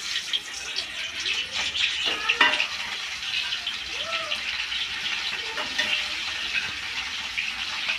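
Fish frying in hot oil in a kadai, a steady bright sizzle running the whole time with occasional stirring scrapes and faint background clatter.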